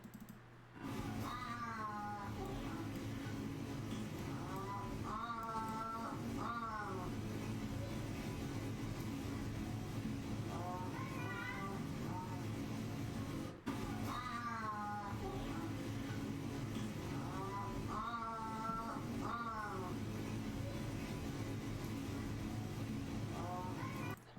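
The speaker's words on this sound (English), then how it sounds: "Lev doing some honks. The Pallas Cats will honk rather than meow." Lev, a Pallas cat, gives a series of short honking calls in repeated bursts, moderately close over a steady low background hum with some keyboard-like tapping.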